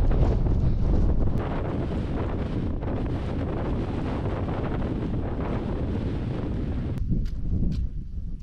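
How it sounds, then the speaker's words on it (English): Strong gusts batter the microphone on an exposed Welsh hilltop with a deep, continuous roar, easing slightly toward the end. "it was wickedly windy up on top"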